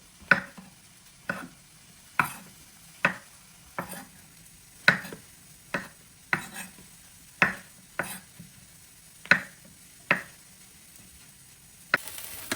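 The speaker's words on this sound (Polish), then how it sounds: "Teraz pieczarki kroję na 4." A knife chops through mushrooms on a board in sharp, separate strokes, about one every second, close and clear with no talking.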